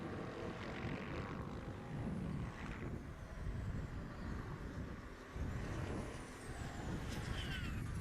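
A racing super truck's engine rumbles at a steady idle in the pits during a race, a continuous low growl heard among loud, noisy trackside surroundings.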